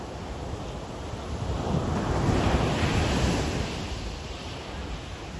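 Ocean waves break at Malibu, California, heard as a continuous broad wash of surf that swells in the middle and eases off, with wind buffeting the microphone and no talking.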